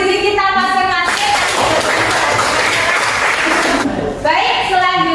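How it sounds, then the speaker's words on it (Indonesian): Students clap their hands in a classroom lesson, a dense burst of applause of about three seconds, with talk before and after it. "Tepuk tangan untuk diri kita masing-masing."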